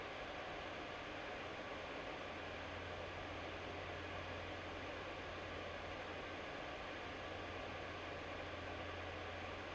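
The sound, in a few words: laptop cooling pad fans running at 4000 RPM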